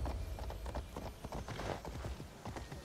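Winged silver unicorn mount from Immortals Fenyx Rising galloping, a steady run of hoof clip-clops with a brief whinny, fairly faint against game ambience.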